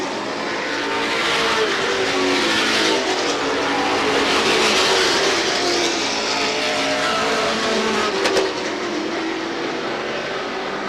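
Race cars roaring around the oval at Star Speedway in a 1990 race, with a continuous loud engine drone that swells and fades as the pack passes, a few sharp peaks near the end.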